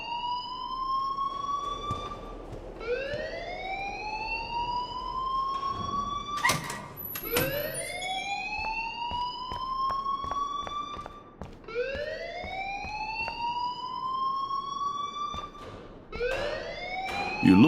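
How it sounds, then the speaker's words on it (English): A rising and falling electronic siren wails in repeated sweeping cycles inside the video game Life is Strange, loud and continuous, with brief clicks and bursts between the sweeps. "please turn off that alarm since that's your job"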